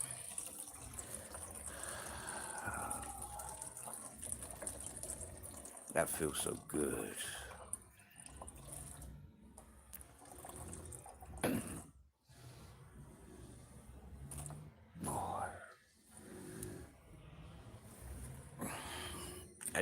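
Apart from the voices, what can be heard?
man urinating into a plastic bottle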